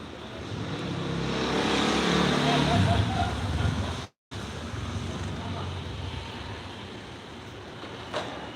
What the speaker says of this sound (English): You hear the engines of the cars down there